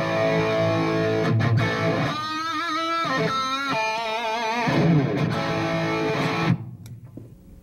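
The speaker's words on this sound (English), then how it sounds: "sometimes I'll also be using a distortion pedal to also add another stage of gain" An electric guitar through an amp and a distortion pedal plays sustained, heavily distorted, buzzing chords with bending notes, loud and up close, then cuts off abruptly near the end.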